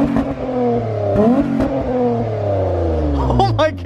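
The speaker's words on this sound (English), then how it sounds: "my exhaust sounds way better" An Acura TL with a cold air intake and modified exhaust revs hard, its engine note climbing and falling loudly and close, with a bassy growl that fills the whole clip.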